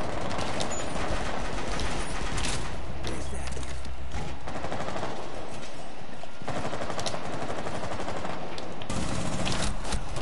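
Automatic gunfire in the Rainbow Six Siege video game rattles loud and close in long rapid bursts, broken by short pauses, with a few louder shots standing out across the ten seconds.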